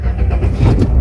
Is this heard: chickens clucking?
no